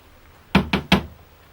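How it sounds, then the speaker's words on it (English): Three quick, firm knocks land on a door at a small railway station ticket office, evenly spaced and close, with quiet around them. "You'll have to knock harder than that."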